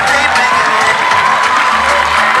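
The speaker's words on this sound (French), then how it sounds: "Les applaudissements s'il vous plaît." A crowd cheers and applauds at a swimming pool inauguration as club swimmers finish a butterfly-stroke demonstration, a loud, dense wash of clapping, shouts and children's whoops filling the space continuously.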